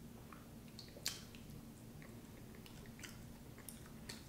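Cotton balls soaked in hot sauce are chewed close to the mic, quiet wet squishing bites with a few sharper clicks and smacks spaced irregularly over a faint hum.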